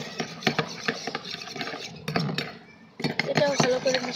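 A spoon stirs milk into an egg yolk mixture in a bowl, making repeated scraping clinks and rubbing strokes against the bowl, close and moderately loud with brief pauses between bursts.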